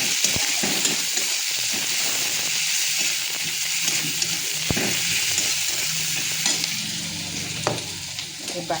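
Sliced onion frying and being stirred in hot oil for an Odia-style fish jhuk jhukia curry, a loud, constant close sizzle with occasional scrapes and clinks of the stirring spoon, no voices.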